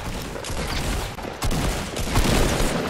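Gunfire in the video game Fortnite, a loud, dense stream of rapid shots with a brief break partway through before the firing picks up again and builds toward the end.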